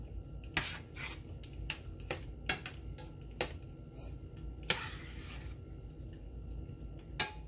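Cheeseburger casserole ingredients are stirred together in a baking dish, giving quiet scattered clinks and taps of a utensil against the dish over a faint, soft background.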